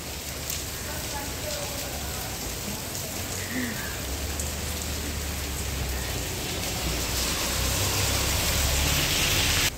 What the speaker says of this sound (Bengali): দেখো কি পরিমাণে বৃষ্টি হচ্ছে, এই যে চারিদিকে বৃষ্টি বৃষ্টি বৃষ্টি